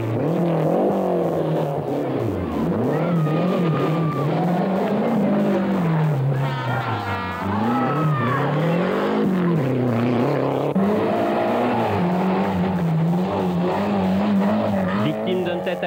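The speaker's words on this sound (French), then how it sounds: "le leader, c'est Alain Oreille sur sa Renault 5 GT Turbo" A Renault 5 GT Turbo rally car at a 1988 rally, engine revving up and down through gear changes with tyre squeal, loud and close, under a commentator talking.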